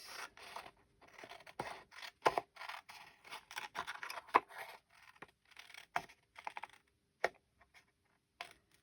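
Scissors snip through paper or card in a series of quick, close, crisp cuts with short pauses between them, fairly quiet and with no talking.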